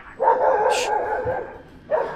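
Dogs on a Turkish street bark several times at passers-by, loud and close, with a short pause before a final bark.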